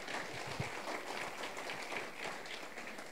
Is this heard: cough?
no